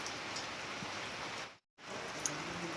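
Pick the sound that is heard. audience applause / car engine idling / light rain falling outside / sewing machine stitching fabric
light rain falling outside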